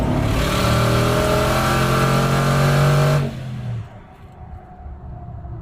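A twin-turbo truck of about 6,000 pounds with external wastegates accelerates hard in first gear with a loud, steady engine roar, then the sound cuts off sharply to quieter rumbling.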